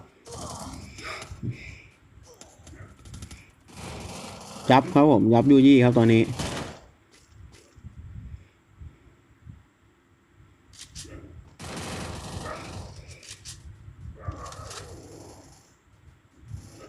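Gunfire in the mobile battle royale game Garena Free Fire, a rapid burst of shots rising loud for about two seconds in the middle, with someone talking in Thai before and after.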